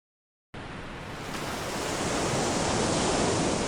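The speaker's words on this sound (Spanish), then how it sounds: "llevando el sonido de las olas rompiendo" Ocean waves break on a Galápagos shore, a dense rushing roar that starts suddenly after a short silence and swells steadily louder, with no voices.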